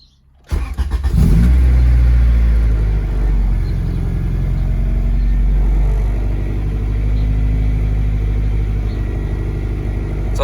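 Honda Integra engine cranks and catches, then runs in gear with a loud, steady low rumble and slight unevenness, heard up close without speech.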